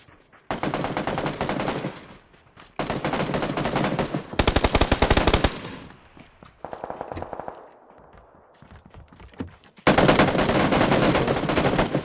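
Rapid automatic gunfire in the video game Counter-Strike: Global Offensive, several loud sustained bursts separated by brief pauses, with a softer muffled stretch and a final intense volley.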